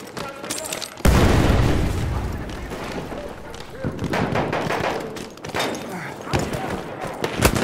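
Grenade blast and battle noise in Battlefield 1: a sudden loud explosion lands early, then rumbling combat and scattered bangs continue while a player talks over it.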